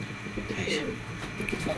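Big-sized pigeons of the jiddalla type coo softly in low, rolling murmurs for a brief moment, fairly close, with a faint background hum.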